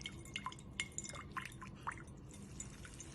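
Preservative liquid drains from a pack of konjac shirataki noodles, a faint, close patter of irregular drips and small wet splashes against a low background hiss, with no talking.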